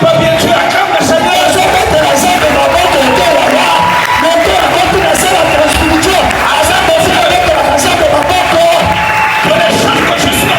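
A church congregation cheering, shouting and whooping in acclamation during a worship gathering, a loud, sustained crowd roar with overlapping voices throughout.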